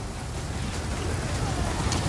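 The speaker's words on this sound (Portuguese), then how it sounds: "A gente já tá cansado por causa da chuva aqui." Rain in Total War: Pharaoh pours down as a steady, dense hiss that stays even and fills the scene from start to end.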